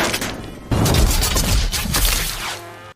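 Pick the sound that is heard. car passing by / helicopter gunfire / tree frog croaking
helicopter gunfire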